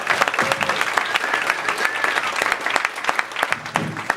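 An audience at a comedy club in El Paso claps and cheers to welcome a stand-up comedian, dense sustained applause with a few shouts, fairly loud and close throughout.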